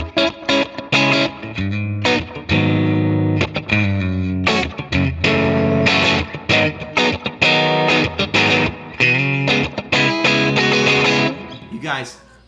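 Loud, heavily distorted electric guitar through a Line 6 Helix modeler chugging through chords with steady rhythmic attacks and reverb, filling the whole stretch before cutting off near the end.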